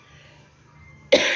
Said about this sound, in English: Sorry, I still have this cough.